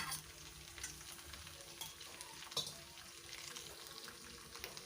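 Potatoes fry in a pan for a French bean dry curry, a steady low sizzle with soft scraping strokes of stirring and one sharper clink near the middle, heard alone at moderate level.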